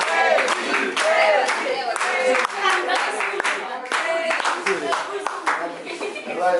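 A crowd at a school community event at Lycée Léopold Sédar Senghor in Joal claps steadily for a boy, with the applause carrying on continuously under voices and chatter throughout.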